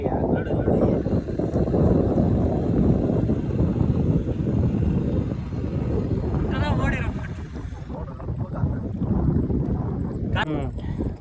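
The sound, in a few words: strong wind outdoors by a pond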